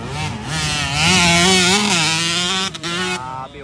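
A 125cc racing motorcycle in a ladies' class final heat at Alanib, Lantapan screams past up close, its buzzing engine revving up and down through gear changes before dropping off near the end.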